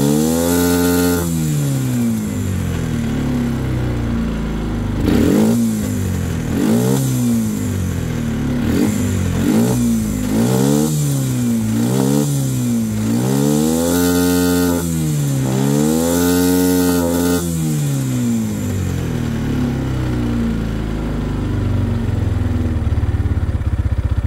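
A small engine revs up and down repeatedly as the throttle is opened, its loud buzzing pitch rising and falling in a series of swells, close by and with no talking.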